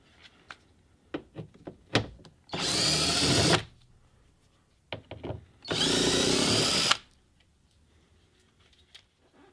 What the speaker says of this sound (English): we're going to remove those three T30 screws again. Let's go ahead and remove these.